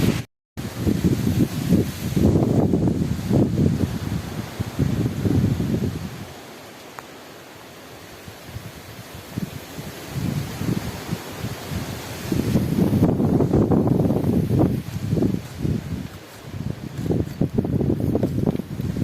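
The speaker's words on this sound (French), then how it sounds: "Et il y a beaucoup de vent." Strong wind gusts roar and buffet the microphone with rustling in a forest in the Cévennes, easing into a quieter lull midway before surging again.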